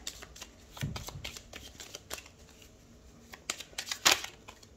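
Gypsy oracle cards being shuffled, a quick series of soft riffling flicks and slaps with a sharper burst near the end, close and fairly quiet, no talking.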